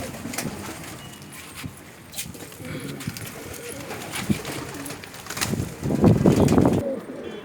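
Many Patiala pigeons coo in a loft, a low murmuring coo mingled with rustling and wing sounds that builds to a louder stretch of cooing near the end.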